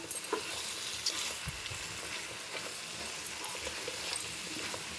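Salted boti meat curry is stirred in a hot pan, giving a steady sizzle with continuous scraping and stirring noises close by and no voices.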